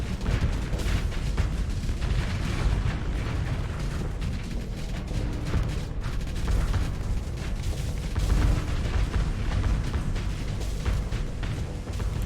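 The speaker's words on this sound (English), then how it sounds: "Those are the thermal pulse cannons." Thermal pulse cannons firing during a Starsector space fleet battle, a dense continuous barrage of booming, crackling impacts and rumbling blasts that runs throughout at steady high intensity.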